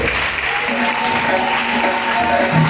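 A church congregation applauds together in praise of God during a service, a dense, continuous wash of clapping that stays steady and loud throughout, with no talk rising above it.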